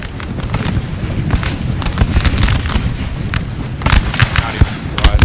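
Artillery shots exploding in the video game Napoleon Total War, a loud, dense run of booms and blasts firing in quick irregular succession throughout.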